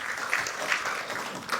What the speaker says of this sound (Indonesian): Terima kasih Bung Boyamin, kita berikan tepuk tangan.